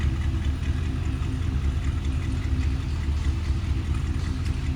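1955 Chrysler New Yorker Town & Country wagon engine idling on electric choke just after a cold start, a steady, low rumbling drone that stays even and fairly quiet throughout.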